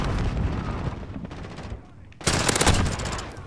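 P90 submachine gun fire in Call of Duty: Modern Warfare (2019), rapid automatic bursts rattling close and loud, a brief pause, then another sustained volley.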